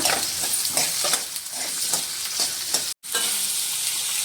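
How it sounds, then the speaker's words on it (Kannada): Sliced onions sizzle steadily in hot oil in a pan, a loud close frying hiss with occasional stirring scrapes and a brief cut in the middle. "ಇದಕ್ಕೆ ಈರುಳ್ಳಿನ ಹಾಕ್ಕೊಳ್ಳೋಣ. ಇದು ಸ್ವಲ್ಪ ಕಂದು ಬಣ್ಣ ಬರಲಿ, ಗೋಲ್ಡನ್ ಬ್ರೌನ್ ಬರೋವರೆಗೂ ಫ್ರೈ ಮಾಡ್ಕೊಳ್ಳೋಣ."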